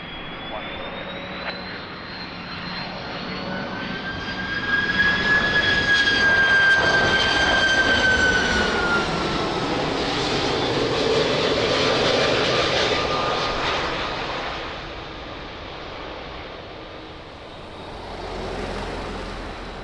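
A passenger jet on approach to runway 02 at Lisbon Airport roars past in a sustained, rising and falling engine drone with a whining tone, coming somewhat high, while air traffic control radio chatter plays over it.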